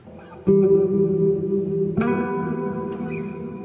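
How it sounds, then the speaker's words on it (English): Low bass notes are plucked twice through a Markbass Riverbero reverb pedal, each ringing out into a long, dark, washy reverb tail that sustains and overlaps. "We can make the reverb longer."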